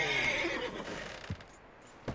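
A horse in Red Dead Redemption 2 gives a loud, drawn-out whinny in the first second. It fades into faint background ambience, and two soft hoof thuds follow.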